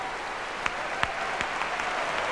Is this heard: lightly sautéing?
no